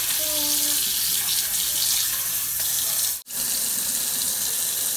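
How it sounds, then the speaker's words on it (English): Bitter leaf is washed under running water, a steady close gush that pours continuously and cuts out for a moment before resuming. "She's washing her own bitter leaf."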